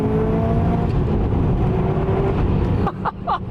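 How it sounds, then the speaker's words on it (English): A Subaru WRX STi S204 with a 2-litre boxer engine and equal-length headers pulls hard, a loud, smooth revving drone rising steadily, then cutting off into a few quick gear-shift blips near the end. "By being equal length headers with the 2 litre, it just has a totally different sound to a normal WRX."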